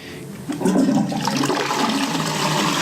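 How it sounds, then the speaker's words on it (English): A toilet flush in an accessible changing-places toilet with a large flush handle: a loud, close rush of water swelling after half a second and continuing steadily to the end, with no talk. "I see there's a big handle on the flush."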